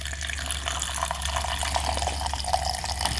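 Gasoline trickles from the petcock of a 2-stroke quad, a steady, close liquid pour and splatter with faint drips running throughout, over a low constant hum.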